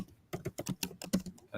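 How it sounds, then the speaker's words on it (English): Quick bursts of typing on a computer keyboard, a dozen or so clicky keystrokes in an uneven rhythm, close and fairly quiet with no talking. "Sorry, I was typing."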